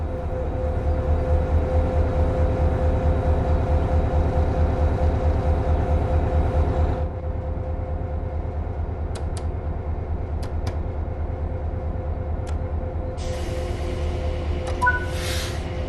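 A passenger train locomotive in Train Sim World 5 drones loudly with a rhythmic chugging pulse that drops to a lower, steadier hum midway, with a few short clicks and a brief hiss near the end.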